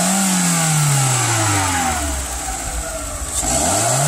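A 2002 Volkswagen Jetta 2.0 engine revs up close, the tone rising and falling through a couple of throttle blips before settling back toward idle, loud and alone.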